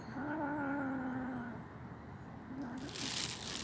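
Stray cats fighting, with a long drawn-out yowling caterwaul near the mic, a brief second wail, then rustling and crinkling noise toward the end.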